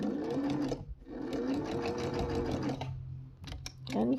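A 1970s Singer sewing machine stitching through scrap fabric, running in steady rhythmic whirring bursts with brief pauses between them, close and clear, with a person speaking quietly alongside.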